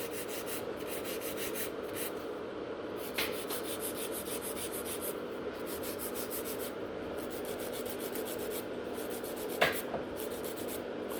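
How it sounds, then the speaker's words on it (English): A nail file reshaping acrylic fingernails into a coffin shape during a black faded French set, giving a steady soft rubbing rasp that runs continuously with brief pauses, close and moderately quiet, with no talking. "Then with the file, we are going to reshape the nails."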